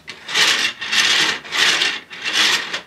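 3D-printed rollers on steel spokes in an Iron Man Hulkbuster cosplay helmet mechanism, rolling up and down four times in an even rhythm, each pass a loud, close, gritty scraping whoosh.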